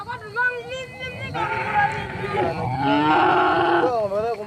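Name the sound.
cattle herd lowing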